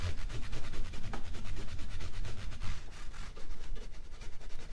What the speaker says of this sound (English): get my brush and get some of this gunk off this board